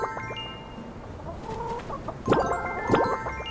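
Hens in the farming game My Time at Sandrock cluck in short bursts, with a few soft clucks first and then two louder, closer squawking clucks near the end.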